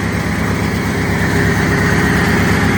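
A Venturo ET10KX mini crane engine idles steadily while warming up, a loud, even, low rumble with a fast pulsing beat heard close by and without any talk.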